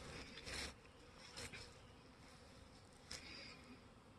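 A honey bee swarm circles in flight right above a hive, giving a steady, close insect buzz with a few louder swells as bees pass near.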